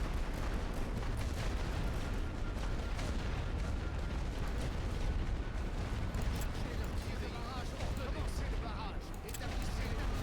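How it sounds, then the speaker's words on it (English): Gunfire and artillery from The Great War: Western Front video game, a dense continuous rumble of distant booms and crackling shots, steady and loud throughout, with speech mixed in. "Hopefully they don't run into gunfire again"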